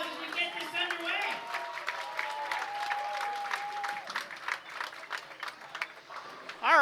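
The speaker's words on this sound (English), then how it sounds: "Let's give her a round of applause as we get this underway." Audience applause at a professional bowling skins match, sustained clapping from a modest crowd with occasional louder claps, voices and tonal sounds over it.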